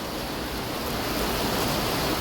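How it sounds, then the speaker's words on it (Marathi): Sudden rain pours down steadily outdoors on an anniversary day, a dense even hiss of falling drops that stays loud and unbroken throughout with no voices. "कारण हा पाऊस अचानक आलेला आहे"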